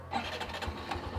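A Honda CB 125 Hornet 125 cc motorcycle engine catches on the first try and settles into a steady, close idle with a low, even putter, with no talk.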